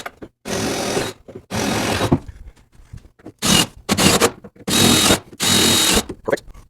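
A power drill bores holes during an upholstery project near fiberglass and hinges, sounding as several loud, close bursts of whirring, each about a second long, separated by short pauses and light handling noise.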